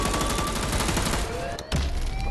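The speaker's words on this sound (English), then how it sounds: "get the machine gun out" Rapid machine gun fire in Dead Island 2, a dense rattling burst that runs loud and close across the whole moment with only a brief gap near the end before resuming.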